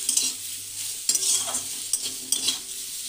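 Cauliflower stalks fry in a pan with turmeric and salt, a spatula scraping and stirring in a few distinct strokes over a continuous light sizzle, close and clear with no talking.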